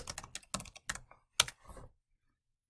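Typing on a computer keyboard, a close burst of quick, irregular key clicks that stops, leaving near silence before one last click.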